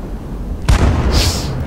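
Tank cannon firing in a tank video game, one sudden heavy boom partway through that cuts through a low rumbling background, then a short ringing tail.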